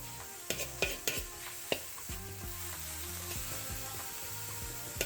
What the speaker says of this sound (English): Let that wine kind of deglaze everything.